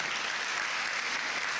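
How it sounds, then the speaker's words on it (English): A forum audience claps steadily for a speaker, a loud, dense wash of applause that fills the short span without a break. "Ms. Gray, I think she deserves another round of applause."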